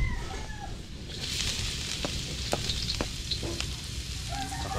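Garlic sizzles steadily in a hot pan, a loud continuous crackling hiss with a few sharp pops and faint scraping of a utensil.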